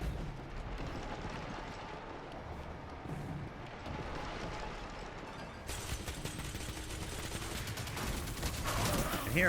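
Gunfire and explosions in Destiny 2, a dense continuous rumble of shots and blasts at moderate level, growing louder toward the end.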